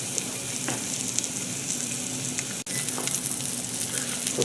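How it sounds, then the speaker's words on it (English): A rib roast with a fat cap searing in a hot pan, continuous loud sizzling and spitting fat with a brief interruption midway. "Trying to sear some of this goodness in."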